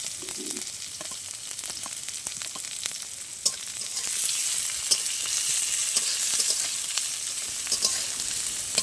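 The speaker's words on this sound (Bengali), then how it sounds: "আমি পেঁয়াজ দিয়ে রসুন দিয়ে ভালো করে এটা ভেজে নেবো" Chopped onion and garlic fry in hot oil in a pan, a steady close sizzle that grows fuller partway through, with occasional stirring scrapes and clicks and no talking.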